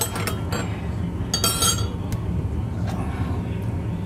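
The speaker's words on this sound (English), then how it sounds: "Oh, I don't have a spoon. I gotta stir it." A metal spoon stirring coffee in a glass, giving a few scattered light clinks against the glass over a steady background hum, with no voices.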